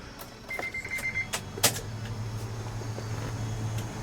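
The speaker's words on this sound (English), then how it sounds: "So real quick, let me turn on the car." A car being switched on: a few soft clicks and a brief electronic chime, then one sharp click, followed by a steady low hum that holds to the end, with no talking.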